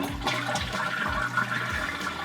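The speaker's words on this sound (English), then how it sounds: "we're going to flush the toilet to get rid of as much water as we possibly can" A household toilet flushes with its tank lid removed, giving a close, steady rush of draining and refilling water with gurgling pulses, heard alone without talk.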